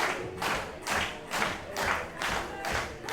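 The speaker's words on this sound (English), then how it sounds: "Not sure if the crowd's trying to get the champ back into it or if they're just cheering along for Josh Alexander." A crowd at a wrestling championship match claps and cheers in a rhythmic pulsing pattern, swelling and dipping about every half second, with thumping from the ring underneath.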